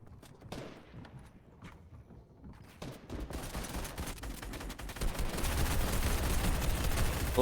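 Gunfire in the video game Fortnite, sparse shots at first that build into dense, sustained bursts and rumbling fire growing steadily louder toward the end, with no talk over it.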